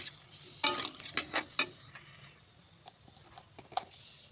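Onion, chilli and cumin pastes dropped into hot oil give a few sharp crackling bursts of sizzle up close, then settle into a quieter patter and occasional pops.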